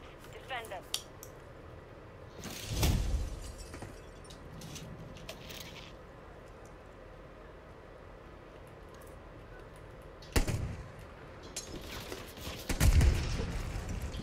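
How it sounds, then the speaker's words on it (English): A flashbang grenade goes off in a video game shootout, heard as a few sharp, booming bursts spread apart over a quiet, hissy background, with faint clatter between them. "Fucking flashbang didn't do a damn thing."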